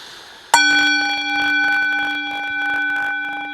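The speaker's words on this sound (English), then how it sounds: "Let's ring this gong." A gong struck once at a morning meditation session rings out loud and close, its sustained metallic tones shimmering and slowly fading while quiet background sounds flicker beneath.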